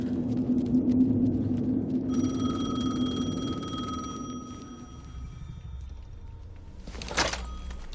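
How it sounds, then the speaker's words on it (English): A telephone rings in the video game Alan Wake II, a steady electronic trill of sustained tones that rings on for several seconds over a low, dark ambient rumble, then cuts off with a brief thump. "The phone again."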